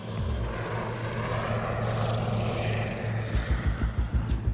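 A large helicopter built to fly over sand and ocean drones steadily with a loud engine roar, then its rotor blades begin beating in a rapid rhythmic chop toward the end.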